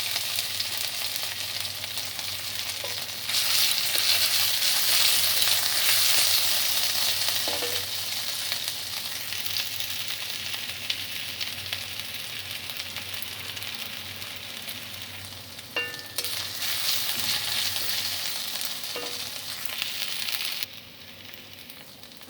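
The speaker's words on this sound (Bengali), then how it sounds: "আদাটা ভাজা হয়ে গেছে।" Ginger paste frying in oil after whole spices, for a Bengali bottle gourd sukto, making a continuous close sizzle and bubbling with occasional stirring scrapes, louder at times and easing off near the end.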